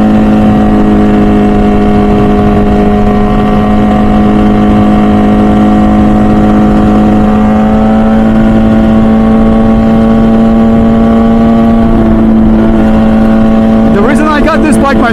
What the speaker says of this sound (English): combined with the noises that come out from the exhaust and the engine, it just gets you every time.